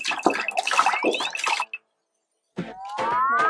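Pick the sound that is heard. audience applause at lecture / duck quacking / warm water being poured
warm water being poured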